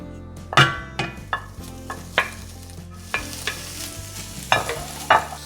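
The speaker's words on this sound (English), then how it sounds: "And I'm gonna let it fry to a real nice golden brown" Bacon fries in a cast iron skillet over medium-high heat, with a constant crackling sizzle and a series of sharp, irregularly spaced scrapes and taps as it is stirred and turned.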